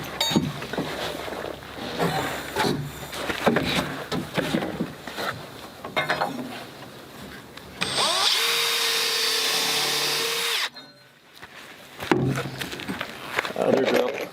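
Cordless battery-powered drill whirring steadily for about three seconds in a workshop while building a firewood shed, loud and close, set between stretches of people talking and clattering tool handling.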